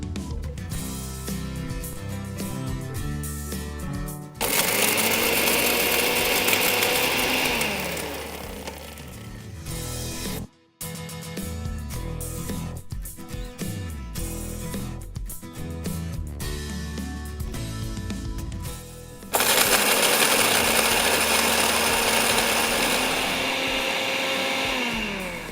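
A mixer grinder whirs loudly as it grinds roasted spices with a little water into a fine paste for rajma masala, running in steady bursts with a short pause midway and a louder final run.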